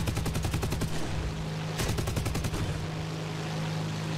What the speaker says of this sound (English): Yeah, so the Mk-108s have a new sound.